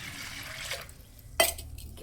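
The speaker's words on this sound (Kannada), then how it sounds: "ಸ್ವಲ್ಪ ನೀರು ಹಾಕಿ" Water poured into a cooking pot in a home kitchen before it goes on the gas stove, heard as faint, brief splashing with a light metallic clink.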